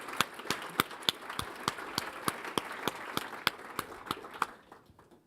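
A conference audience claps for a panel of speakers: a steady run of crisp, fairly close hand claps that thins and fades out near the end, with no voices over it.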